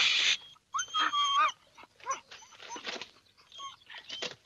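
Several dogs whimpering, yipping and giving short barks in an uneven scatter of bursts, close and moderately loud, with no talking.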